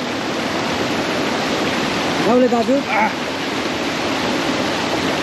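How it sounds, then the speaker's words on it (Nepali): A forest stream flows steadily in the dark, its water rushing in a constant broadband wash from start to end, with a voice speaking briefly partway through. "जङ्गलमा होइन, पानी यसरी बगिरहेको छ है।"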